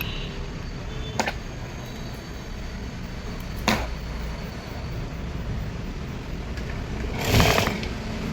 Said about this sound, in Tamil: 2 பீஸ் வச்சு ஸ்டார்டிங்கில் தைக்கிறோம்